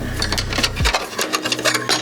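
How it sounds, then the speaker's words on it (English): Loose trailing arm mounting bracket on a Subaru WRX STI, heard from under the car as a quick metallic rattle of fast, close clicking and buzzing over about two seconds. "If you hear something rattling, that is the mounting bracket for the trailing arms."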